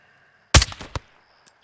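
Sniper rifle shots in Call of Duty Modern Warfare 2, one sharp loud crack followed quickly by a second, then a faint distant report, each ringing briefly against a quiet background.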